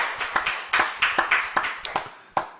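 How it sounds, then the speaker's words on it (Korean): A small church congregation at a Friday late-night prayer meeting claps in scattered, uneven bursts, sharp hand claps landing irregularly at moderate loudness with no talking over them. "하나님께 영광의 박수 올려드리겠습니다"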